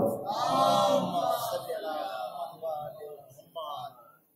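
A crowd of voices at a Jashn-e-Imam religious gathering responds to a call by reciting salawat together in a loud, swelling chant that fades, then a brief second rise near the end.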